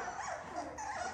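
A dog whimpering close by, a short run of thin whining cries rising and falling over a second, with no talking.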